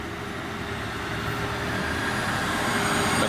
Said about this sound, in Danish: Her vi er 3-toget